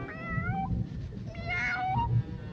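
A cartoon cat meows in a classic animated cartoon, several drawn-out, wavering meows in a row, close and clear over a busy music and sound-effect background.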